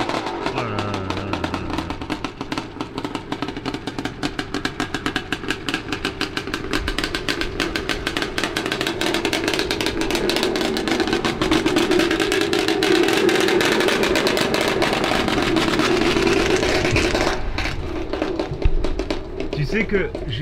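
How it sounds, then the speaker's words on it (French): A loud motocross motorcycle, a 180 hp MX machine on a steep hill-climb, runs continuously and roars close by for most of the stretch before cutting out near the end, with people talking over it. "Tu sais que j'ai jamais entendu une moto qui faisait autant de bruit."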